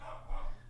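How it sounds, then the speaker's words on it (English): A dog barks once, briefly and faintly, somewhere indoors while someone is at the door. The bark is muffled and low in level against a steady background hum. "Sorry about my dog barking."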